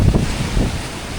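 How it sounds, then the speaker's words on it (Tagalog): Strong gusting typhoon wind roaring across the microphone at a campsite, loud and continuous with low rumbling buffets. "Grabing lakas ng hangin, oh."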